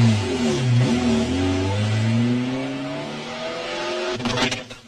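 A car engine revs and pulls away, its pitch climbing through a couple of gear rises before the note drops and fades, ending with a short burst of clatter, with no voices.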